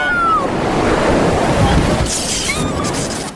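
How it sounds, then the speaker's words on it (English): A sneaker wave, a huge sudden swell, crashes onto a rocky Northwest beach, a loud sustained roar of surf with wind that builds and then washes out in a brighter hiss toward the end. "Sneaker waves are huge swells that come out of nowhere."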